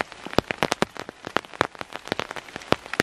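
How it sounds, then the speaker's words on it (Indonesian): Heavy rain falls at a mountain campsite, dense irregular drops pattering and smacking close by on a surface, some hits sharp and loud, continuous without talk. "saya terjebak hujan ya,"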